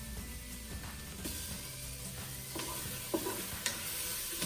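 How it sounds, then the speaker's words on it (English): Half a stick of butter melting over browned onions in a Ninja Foodi, giving a steady low sizzle and bubbling with a few light scrapes and clicks of a utensil near the end. "so let's drop in a half a stick of butter."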